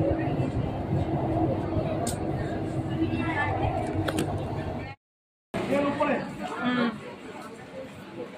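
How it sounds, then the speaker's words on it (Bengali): A Kolkata metro train runs through the tunnel beneath the Ganges river, giving a steady loud rumble with mechanical rattling throughout and a brief dropout in the middle, while people chatter in the background. "জলের তলার মেট্রো।"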